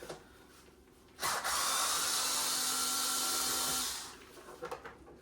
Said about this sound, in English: I'm using a Bosch IXO electric screwdriver just to save a bit of time